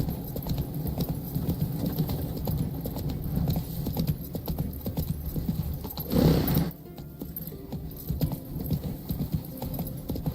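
A horse in The Witcher 3 galloping steadily, loud and close, with a dense continuous hoofbeat rhythm and a brief dip near the end.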